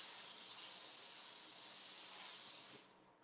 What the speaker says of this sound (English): I can simply hover that steam right over the silk.